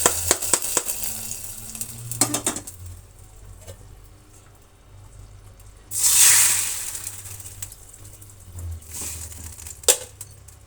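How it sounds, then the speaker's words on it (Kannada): Hot tempering is tipped into sambar cooked in a village-style pot with vegetables and lentils, giving a short burst of sizzling hiss between scattered clinks and scrapes of a spoon against the pot. "ಅದರಿಂದಾಗಿ ಈಗ ಒಗ್ಗರಣೆ ಸೇರಿಸೋಣ."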